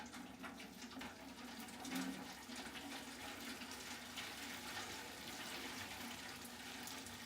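Liquid is slowly poured through a small perforated pan onto a grain bed while brewing an all-grain pumpkin chocolate vanilla coffee porter. It makes a continuous soft splashing trickle, close and steady, with no speech.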